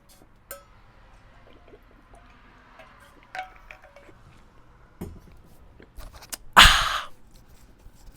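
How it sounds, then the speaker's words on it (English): Water drunk from a stainless steel bottle: a few faint clicks and taps of the metal bottle, then a short, loud gulp near the end, close up with no talk. "I got stainless steel water bottle. I'm gonna have a drink."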